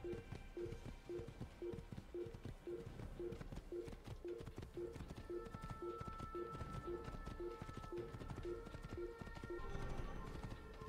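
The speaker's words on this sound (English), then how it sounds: "they'll probably start hating me again because I'm riding my horse too fast" A horse gallops in Assassin's Creed (2007), its hooves beating a steady, rapid clip-clop rhythm that carries through the whole stretch beneath a constant game soundscape.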